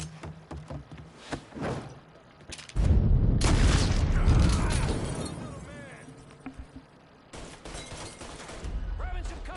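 Heavy gunfire and explosive booms in the video game Mafia 3, a dense loud burst of shots and crashes in the middle, with sporadic shots before and after and shouted voices throughout.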